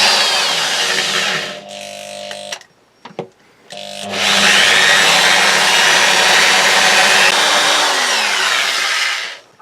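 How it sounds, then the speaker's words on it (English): A high-speed steel drill bit bores into ceramic tile with a loud, steady grinding whine, a brief pause and stutter partway through, then a long continuous run that tails off at the end. "I expect you all spotted that I started off with a high-speed steel drill."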